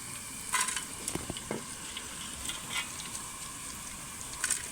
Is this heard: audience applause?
no